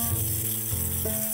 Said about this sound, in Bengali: এবার আমি সর্ষে বাটাটাকে একটুখানি ভেজে নেব।